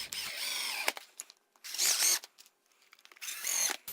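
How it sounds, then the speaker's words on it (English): A power drill drives screws to fix a 1x wooden board on end as a fence on a router jig for a cutting board, giving three short close whirring bursts separated by pauses. "grab some 1x stock tall enough for your cutting board and screw that in on end"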